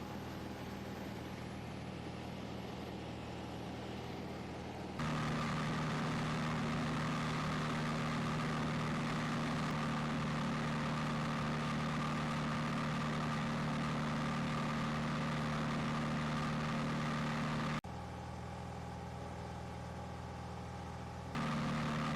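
Small aircraft engine droning steadily in flight, a constant loud hum with strong low tones that shifts level abruptly a few times, with no talk.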